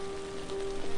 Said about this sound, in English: the soft sound of the rain could make anyone relax